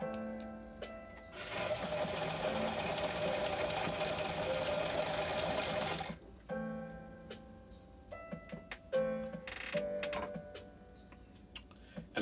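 A sewing machine runs a steady, fast stitching burst through fabric for about five seconds, then gives shorter stop-start runs and clicks, close up and fairly quiet.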